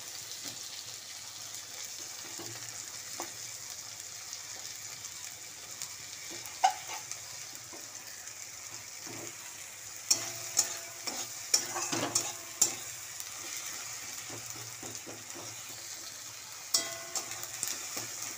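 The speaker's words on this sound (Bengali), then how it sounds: "পেঁয়াজটা ভালো করে ভাজা ভাজা হয়ে গেল" Onion and tomato with mustard seeds and green chillies frying in a pan: a soft, continuous sizzle under repeated scraping and clattering stirring strokes, busiest in a cluster midway and again near the end, with no voices.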